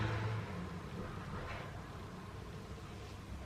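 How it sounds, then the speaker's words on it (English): Road traffic passing outside a small house heard from a front bedroom, a faint, continuous broadband rumble with a slight swell as a vehicle goes by, muffled and distant. "And you can hear the traffic."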